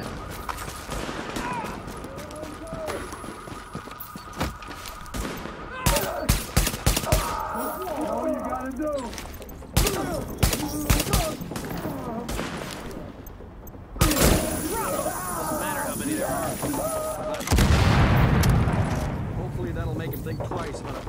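Rapid gunfire crackles in the video game The Division, with dense bursts and heavy shots layered over game effects and voices speaking throughout.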